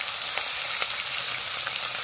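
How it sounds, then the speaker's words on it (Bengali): Live pond fish frying in hot oil in a pan, giving a continuous bright sizzle with faint stirring, close and steady throughout with no talk. "বন্ধুরা মাছটা ভাজা হয়ে গেছে দেখুন"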